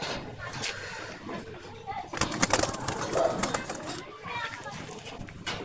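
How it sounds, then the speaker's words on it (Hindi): Soft coos from homing pigeons murmur in the background while a person talks over them, with some rustling and scattered bird sounds nearby. "मैं एक दो कबूतर बस दिखा देता हूँ आपको"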